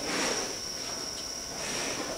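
Crickets on a cricket farm in a village chirp in a continuous high, shrill trill that holds steady over a soft background hiss, with no voices.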